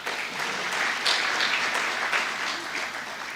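Audience clapping at a university postgraduate research day conference, a moderate, steady wash of many hands with no talk over it.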